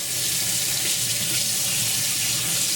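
Cold tap water runs steadily into a cooking pot in a home kitchen, a continuous close hiss and splash with no speech.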